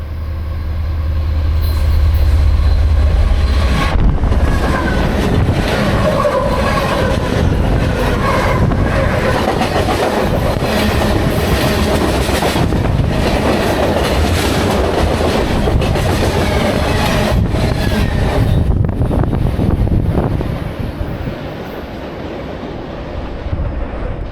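A train rumbles across a railway bridge near a stealth campsite, loud and continuous for about twenty seconds with rhythmic clattering wheels and windy noise, fading slightly at the end.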